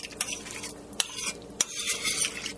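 Bourbon chicken is stirred in a hot pan. A steady sizzle runs under repeated scraping strokes and a few sharp clacks of a utensil against the pan, close and loud, with no voices.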